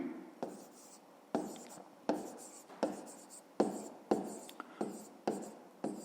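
A pen or pencil writes out a fifth-grade maths problem. Roughly ten crisp, scratchy strokes come at a steady rhythm, each starting sharply and trailing off, close up and alone with no talk.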